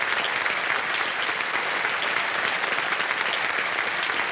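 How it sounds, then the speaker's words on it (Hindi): Studio audience at the KBC quiz show applauding a contestant, a dense, steady wash of clapping that fills the room evenly at moderate loudness throughout. "जरा तालियां बज जाए उनके लिए।"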